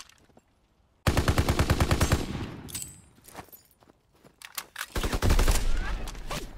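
Automatic gunfire in Call of Duty: WWII, a loud sustained burst of rapid shots, a pause, then scattered single shots and another heavy close burst with rumble.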